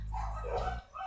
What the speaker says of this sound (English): Why are the dogs barking?